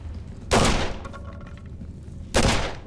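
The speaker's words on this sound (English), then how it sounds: "Shotgun! Shotgun!" A shotgun fires in the game Condemned: Criminal Origins, set in a library, with two loud blasts about two seconds apart. Each has a sharp attack and a short decaying tail over a low rumble.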